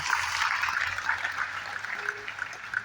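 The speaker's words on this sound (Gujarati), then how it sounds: "આપણી વચમાં સંત પધાર્યા છે, તાળીઓથી સ્વાગત કરો" An audience at a Shrimad Bhagavat Saptah religious discourse in Pal village claps to welcome a saint, with steady, dense applause from many hands throughout and no pauses.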